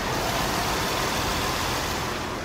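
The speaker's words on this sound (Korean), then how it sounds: "굉장히 정숙하고 규칙적인 엔진 사운드 들려주고 있고요" A Hyundai Grandeur HG sedan engine idles at close range with the hood open, a steady, smooth, even continuous rumble with no talking.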